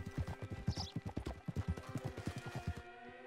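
Horse hooves clip-clop in a steady, close trotting rhythm in Red Dead Redemption 2, with a faint whinny partway through and quiet game ambience under the hoofbeats.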